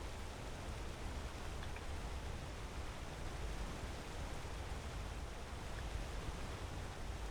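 A waterfall in the Skyrim video game pours in a steady, even rush of broadband noise, moderately soft and unchanging throughout with no voices over it.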